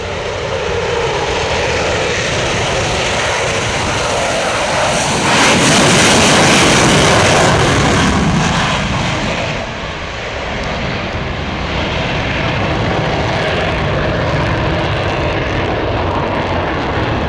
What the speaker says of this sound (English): Super Hornet now powering up from your right.